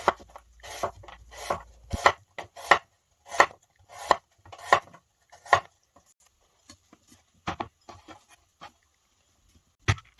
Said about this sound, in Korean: 샐러리 잎은 손질해 주고 줄기를 잘라줍니다.